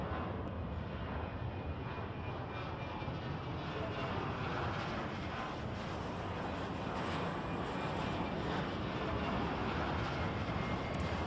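Jet airliner engines at a busy airport in the Airport Madness video game, a steady loud roar lasting throughout with a broadband rumble that never lets up.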